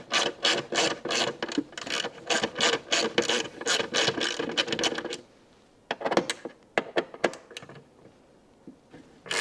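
A hand ratchet clicks rapidly in repeated bursts as it backs out the long bolts holding a Jeep Wrangler side mirror. A steady run of close, loud clicking is followed by a brief pause, then shorter, scattered clicking bursts.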